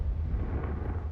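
A Confringo blasting spell going off in Hogwarts Legacy gives a brief, dense explosive roar with heavy low rumble that stays loud and steady throughout.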